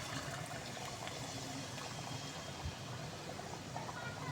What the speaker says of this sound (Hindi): तो इसके अंदर हम डाल देंगे पानी।